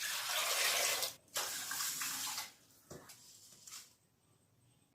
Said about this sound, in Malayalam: നല്ല വെള്ളം ഒഴിച്ച് വെക്കാം